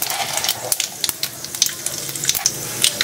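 Bay leaves, dried red chillies and whole garam masala such as cinnamon frying in oil for tempering dal with fish head, a steady close sizzle with sharp crackles and pops.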